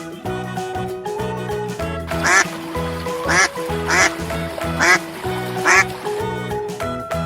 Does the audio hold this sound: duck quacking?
yes